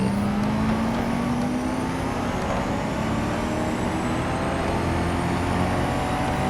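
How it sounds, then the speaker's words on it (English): A race car engine in the video game Real Racing 3 roars steadily and climbs in pitch as it accelerates, loud and close, with no voices. "Riera does have some cool sound in terms of engine noise"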